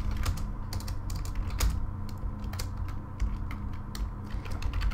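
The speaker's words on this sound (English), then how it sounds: "And I'm gonna just type this out" Code is typed on a computer keyboard in quick, irregular bursts of close clicking keystrokes, with no one speaking.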